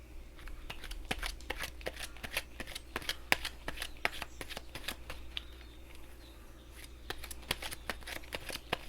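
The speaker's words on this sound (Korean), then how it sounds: "그런 키위님을 위한 조언 카드 한 장 뽑아보도록 하겠습니다." Tarot cards being shuffled before an advice card is drawn, a steady run of quick, crisp riffling flicks and slaps close up for several seconds, with no talking.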